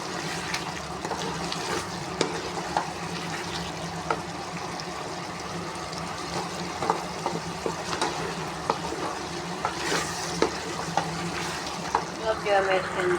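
Peas, carrots and potato pieces fry and sizzle steadily in a pan, with occasional scrapes and clinks of stirring over a continuous crackle.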